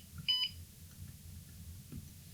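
A small buzzer on an ESP32 Pico board, fitted with a display, trackball and touch buttons, gives one short, bright electronic beep with a brief chirp just before it, then low hum follows.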